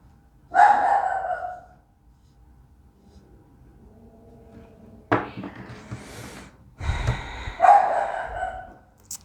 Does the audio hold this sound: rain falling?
no